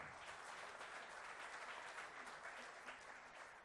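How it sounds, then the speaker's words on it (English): An audience at a shelter home thank-you event gives a brief, faint round of applause, a soft continuous patter of clapping heard at a distance. "Can we have a round of applause?"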